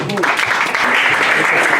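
Audience at a Miss and Mister EDEN OI pageant on La Réunion applauds, a dense wash of clapping heard up close while a voice talks over it.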